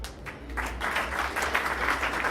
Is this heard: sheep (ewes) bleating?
no